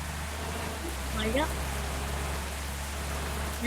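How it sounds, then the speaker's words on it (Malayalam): Steady rain hisses across the whole scene of an off-road bus driving game, with a brief rising whistle-like chirp near the middle and no speech. "മഴ"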